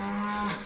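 A cow in a pasture moos once, a loud, sustained, close-up bellow with a steady low pitch and no voices over it.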